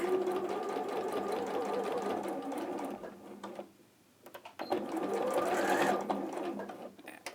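A sewing machine stitching a back tack on dressmaking fabric whirs loudly up close, stops briefly, then runs again in a second steady burst.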